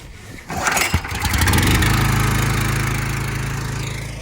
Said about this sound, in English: We'll just fire it up. Let's see if she'll crank on the first pull.